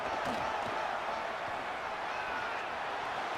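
Stadium crowd roars steadily from start to finish in a College Football 27 game, a dense continuous wash of cheering with no break.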